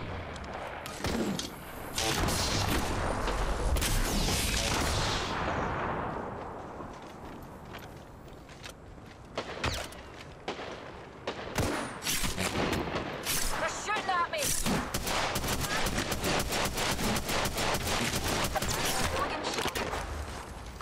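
Apex Legends gunfire crackles in scattered single shots and fast automatic bursts, with booming impacts and quieter gaps between volleys, growing into a dense rapid burst toward the end.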